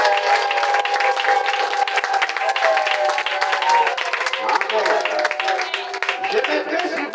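A church congregation applauds steadily at close range through the whole stretch, a dense wash of clapping with shouting and voices mixed in.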